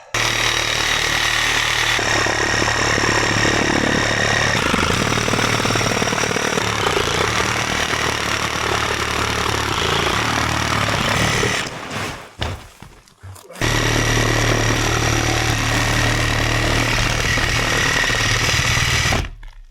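A power saw fitted with carbide-tipped blades cuts steadily through roofing material on a cabin roof during a fast snowmelt, a loud continuous whine that drops out briefly near the end before resuming.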